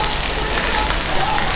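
Heavy rain pours steadily during a storm in Thailand, a dense, even hiss of drops hitting surfaces that stays loud and close throughout.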